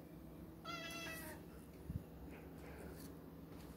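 A domestic cat meows once, a clear, drawn-out call standing out against quiet indoor room noise, followed by a brief low thump.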